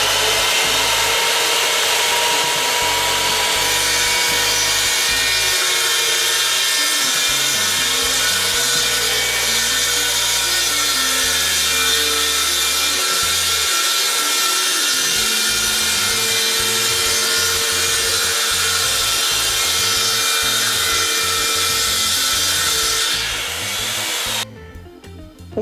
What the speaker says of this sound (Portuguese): você inicia o corte, só rela a serra na madeira e para